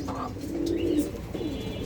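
Pigeons at a pigeon farm coo softly nearby, a couple of low rolling calls with faint chirps over quiet background noise.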